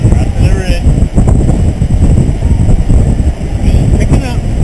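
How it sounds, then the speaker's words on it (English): Strong wind roars across a snowy mountain ridge during a winter hike on Mt Baldy, a loud continuous buffeting rush battering the microphone close up, steady for several seconds. "Windiest day I've ever gone climbing."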